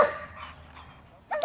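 A playful dog barking outdoors, heard as a short yelp at the start and another quick bark at the end, close and fairly loud with a quiet pause between.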